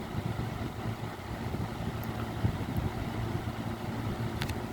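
A Lasko 3733 electric fan runs steadily, a continuous low whooshing hum with a faint motor drone, close and even throughout, with no talking.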